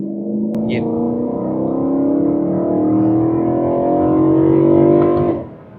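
A BMW E92 M3 Competition engine revs and roars steadily, its tone rising and holding loud before cutting off near the end.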